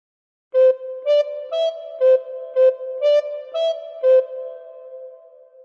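A recorder plays the opening phrase of Frère Jacques as eight clear, separately tongued notes in a steady rhythm, close up and solo, with the last note held and fading out.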